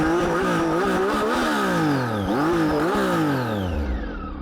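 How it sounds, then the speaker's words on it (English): A Triumph Tiger 800XC motorcycle with a broken exhaust revs loudly and close, its engine note climbing and dropping through several quick throttle blips with a rough, raspy edge. "One thing I want to point out is this exhaust is kind of broken."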